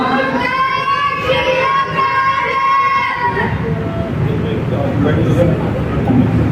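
A Sikh congregation at a gurmat camp closing ceremony at a gurdwara shouts the jaikara response in a loud, sustained collective roar, then dissolves into crowd murmur and hubbub.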